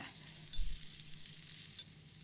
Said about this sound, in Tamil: ஒரு 2 டேபிள் ஸ்பூன் அளவுக்கு பொடியா நறுக்கின வெங்காயத்தையும் போட்டு ஒரு வாட்டி நல்லா வணக்கி விட்டுருங்க.